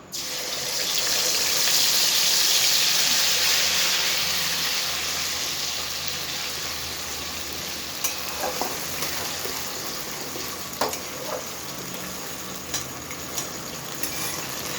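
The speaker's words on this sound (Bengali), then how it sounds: "পর আমরা এটাকে তেলের মধ্যে দিয়ে দেবো, দিয়ে আমরা ব্যাটারটাকে দিয়ে দেবো এটার মধ্যে" Egg batter poured into hot oil fries with a loud steady sizzling hiss that gradually settles, dotted with small crackles and pops.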